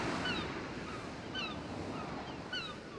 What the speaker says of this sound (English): the waves, the sound, it's drowning everything out